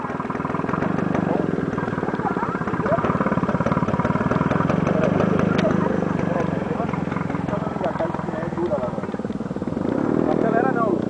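A small drift kart engine runs with a steady, buzzy putter that rises and falls slightly, heard close by under ongoing Portuguese conversation between a child and a parent.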